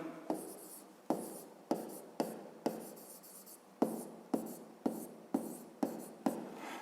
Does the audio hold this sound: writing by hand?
yes